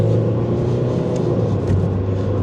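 A Mazda 3 with a failed transmission control module accelerating, its engine rumbling steadily and loud from inside the car with a brief change in tone as it shifts from one gear to the next.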